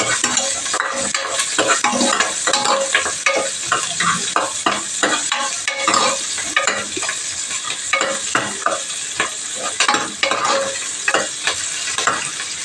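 Chopped onion and a sprig of curry leaves fry in oil with a steady, loud sizzle. Frequent stirring scrapes and clinks run through it, and no one speaks.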